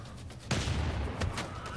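A cannon unit in Civilization VI fires an attack: a sudden loud boom followed by a rumbling tail and a second, lighter burst a moment later.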